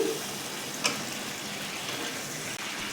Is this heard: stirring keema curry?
yes